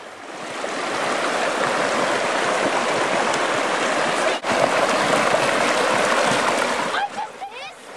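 The River Nairn runs shallow and straight between built embankments near a road bridge, giving a steady broadband rush of flowing water that fills the clip, with a brief sharp knock near the middle and splashy burbles near the end.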